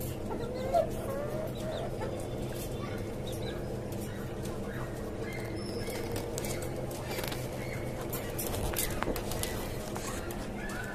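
Caged hens cluck steadily on a chicken farm, a continuous low chorus of fowl sounds with occasional sharper calls while someone talks over it.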